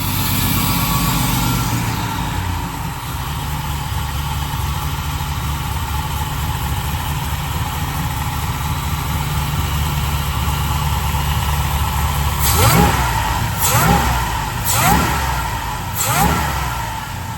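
A pickup truck with an LS engine swap and a Magnuson supercharger idles with a loud, steady rumble, then gives several sharp revs near the end.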